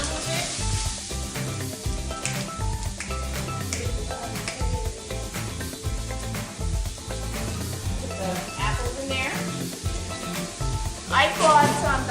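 Red cabbage being tossed in a hot pan, with steady frying sizzle and stirring scrapes running continuously and fairly close, with background music underneath.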